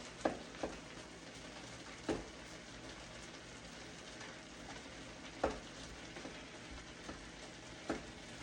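Food frying in a pan over a high flame, giving a steady, faint sizzle with a few sharp pops and clinks scattered through it.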